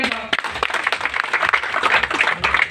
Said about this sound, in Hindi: बहुत मैम के 2000 तालियां हो जाए